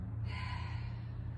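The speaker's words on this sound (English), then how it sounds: "Calmly breathing." Calm breathing during a qi gong routine, one slow, soft airy breath close to the microphone over a low steady hum, no talking.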